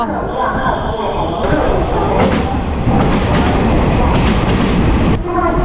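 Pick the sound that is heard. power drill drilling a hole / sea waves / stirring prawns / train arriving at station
train arriving at station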